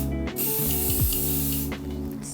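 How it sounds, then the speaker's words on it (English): A can of medium-hold hairspray hisses onto hair in one continuous close spray lasting over a second, with faint handling clicks around it. "Medium hairspray."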